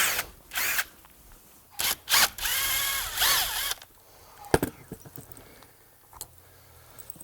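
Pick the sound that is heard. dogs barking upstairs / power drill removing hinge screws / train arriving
power drill removing hinge screws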